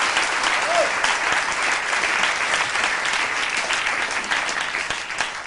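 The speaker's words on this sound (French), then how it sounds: "je crois qu'on peut l'applaudir." Enthusiastic studio audience applause on a French television comedy show, dense and sustained at close range, fading slightly toward the end.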